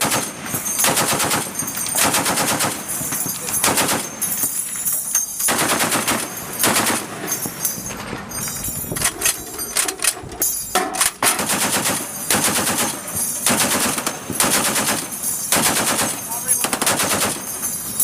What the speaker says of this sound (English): Did you just get done shooting?